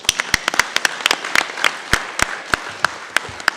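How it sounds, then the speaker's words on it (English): An audience at a Summit on Democracy applauds, sparse, sharp individual claps ringing out irregularly over a soft room hum, close and distinct rather than a dense roar. "Let's all give them all applause."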